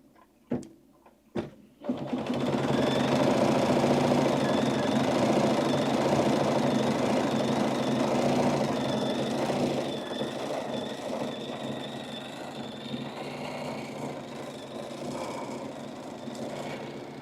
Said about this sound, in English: we're just going to sew that now